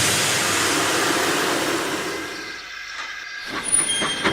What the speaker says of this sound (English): Driver, get Edward steamed up and ready to go.